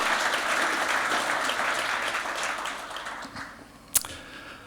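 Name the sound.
audience applause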